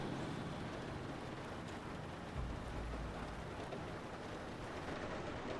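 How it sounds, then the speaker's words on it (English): Steady rain drumming on a ship's hull in a submarine video game, a dense, even hiss with a low rumble swelling briefly midway, faint and with no voices. "I like that you can hear the rain on the hull of the ship."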